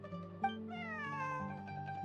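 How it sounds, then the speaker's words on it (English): A cat meows in Genshin Impact, one long drawn-out cry that rises then settles, heard clearly over steady game background music. "I take it Bonnie's your pet cat?"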